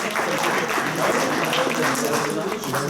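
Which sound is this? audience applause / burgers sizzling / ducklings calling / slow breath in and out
audience applause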